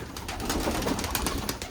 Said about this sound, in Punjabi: ਪਿਓਰ ਚਿੱਟੀ ਸ਼ਾਹ ਕਾਲੀਆਂ ਅੱਖਾਂ ਦੀ ਕਬੂਤਰੀ ਬਹੁਤ ਸੋਹਣੀ ਕਬੂਤਰੀ ਆ